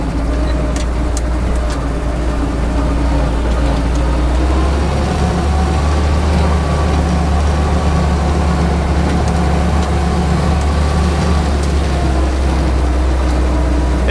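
A 1946 Jeep Willys off-road engine rumbles loudly and continuously during a test drive, a steady low drone with shifting mechanical tones and no break.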